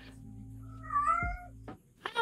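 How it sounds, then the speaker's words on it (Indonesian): A cat in heat lets out a long, wavering meow, then a shorter second call, at moderate distance over a low steady hum. "Ya, itu suara kucing ya."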